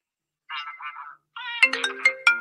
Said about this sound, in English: I have to turn my phone off. I neglected to do that.